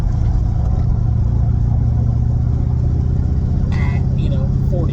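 Sports-style new car driven through corners at around 25 to 40 mph, a steady low engine and road drone throughout with a brief brighter burst near the end, heard from inside the cabin.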